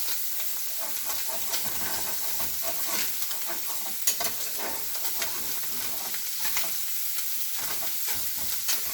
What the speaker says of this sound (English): we're just going to brown the ground sausage